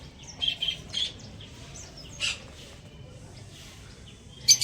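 Several pet birds chirping indoors in short bursts of bright tweets, with pauses between calls and a louder flurry at the end over a low steady background hum.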